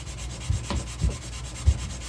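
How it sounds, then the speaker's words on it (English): Block sanding a gun before a high polish, close and rhythmic rubbing strokes with soft knocks at each pass, about three or four strokes, no talking. "sanding all those deeper sanding marks out as you go"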